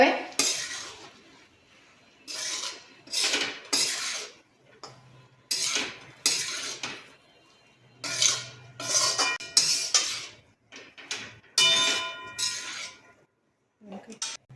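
Metal spoons scrape and clink against a pan as cut idli pieces are tossed and mixed for masala fry idli, in repeated close bursts of clatter separated by short pauses.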